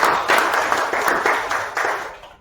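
An audience at an academic session on evidence synthesis and implementation science gives a round of applause for a professor, with brief, dense clapping that swells quickly and fades out over about two seconds.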